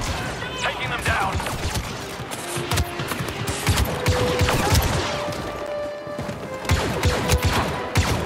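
Rapid blaster fire in the Star Wars Battlefront video game, a dense continuous fusillade of overlapping shots with crashes and impacts throughout, loud and busy.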